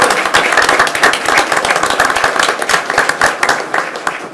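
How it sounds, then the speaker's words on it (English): A room full of people applauding at a school board of education meeting, steady dense clapping that holds loud and even throughout, with a few scattered voices mixed in. "Can we get one more round of applause"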